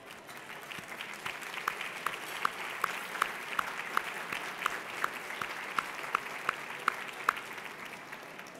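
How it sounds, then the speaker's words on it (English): Sustained applause from a lunch audience honoring the TPPF board of directors at a Texas policy event, steady dense clapping with a few sharper individual claps standing out, no talking. "You deserve a round of applause for the great work you do for the state of Texas."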